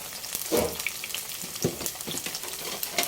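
Hot oil crackles and spits while squash blossoms fry into chips, with irregular pops and light stirring clatter over a continuous sizzle.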